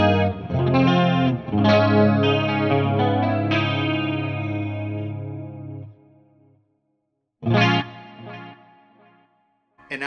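Clean electric guitar tone with chorus and chamber reverb, set up for a song, playing sustained chords that fade out, then a short strummed chord and another starting at the end, with no talking.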